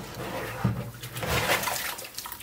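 Running tap water splashes over a Weber Q 1000 griddle plate during rinsing, an uneven spattering flow that surges and dips with a brief clunk early on.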